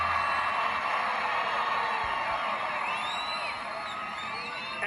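A huge rally crowd in Texas cheers and whoops continuously, a dense wash of voices with scattered shrill whistles and shouts rising out of it, steady and loud throughout.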